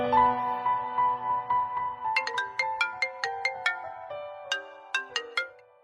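A mobile phone plays a melodic ringtone close by, first as a sustained tune and then as a run of bright, rhythmic plucked notes that repeat over several seconds.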